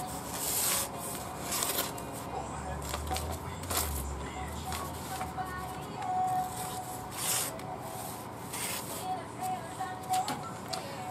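An axe is sharpened by hand without fancy stones, with repeated rasping strokes in an uneven rhythm, close and moderately loud, and a soft low rumble partway through.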